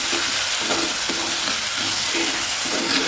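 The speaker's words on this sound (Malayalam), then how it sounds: "ഇതെല്ലാം നല്ലതുപോലെ വഴഞ്ഞ് വെക്കണം. തക്കാളി ഒന്ന് വഴഞ്ഞ് വെക്കണം." Tomato and curry leaves sauté with crab in a hot pan, giving a steady loud sizzle and hiss broken by regular scraping stir strokes, with no talk.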